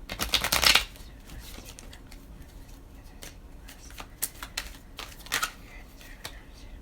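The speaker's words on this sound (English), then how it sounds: "I'm going to shuffle some cards" Tarot cards are shuffled close by: a loud riffle burst at the start, then scattered soft flicks and taps of cards being cut and handled, with quiet room tone between.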